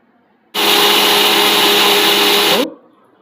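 Ragi and urad dal with water are ground in a kitchen mixer grinder jar, giving a loud, steady motor whine for about two seconds with an abrupt start and a quick wind-down.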